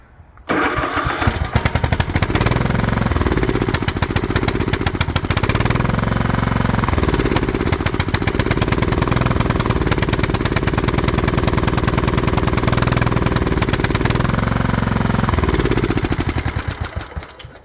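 A Craftsman lawn tractor engine, goat-trampled and primed with gas poured into the carburetor, catches after a brief start and runs loud and steady at close range with a rough, throbbing rhythm before cutting off near the end.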